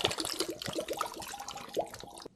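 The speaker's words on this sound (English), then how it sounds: "crack open our chicken broth. Pour that all in there." Chicken broth pours from a carton into a pressure cooker pot for carnitas, a close, steady splashing glug with irregular bubbling spurts running throughout.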